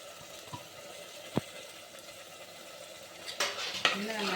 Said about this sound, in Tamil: இப்போ நம்ம இதையும் போட்டு நல்லா வதக்கிக்கலாம்.